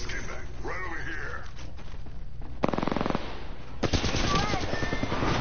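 Gunfire in a shooter video game: rapid bursts of automatic fire crackle through the middle and end, loud and close, mixed with game effects while a voice talks over them.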